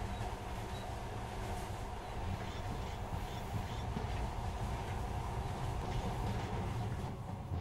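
An automatic metro railcar rolls along underground tracks in the post-apocalyptic game Metro 2033 Redux, a steady loud low rumble with faint rhythmic clatter, continuous and close throughout.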